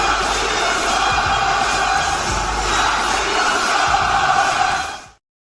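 Wrestling arena crowd at Raw on Netflix chanting along with a wrestler's entrance music, a dense, loud, continuous wall of massed voices and music that holds steady for about five seconds and then cuts off abruptly.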